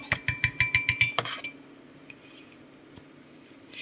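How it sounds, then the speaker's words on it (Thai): A spoon stirs a yeast mixture in a bowl, giving about eight quick, loud, evenly spaced clinks against the side, then a couple of softer scrapes before it falls quiet. "แล้วเราก็คนนะคะ ทีสักพักหนึ่ง"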